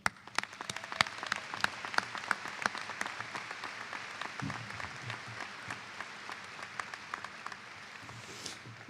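A crowd applauds at a medical school commencement ceremony, with steady, dense clapping filling the hall. Sharper individual claps come early, and the applause stays sustained and fairly loud through to the end.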